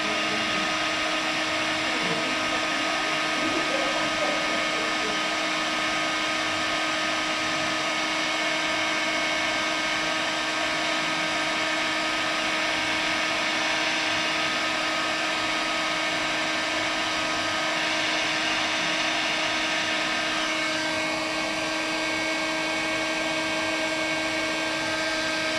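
Heat gun blowing steadily on a pottery pot to dry it, a constant whining hiss with a steady pitch that holds loud and unbroken throughout.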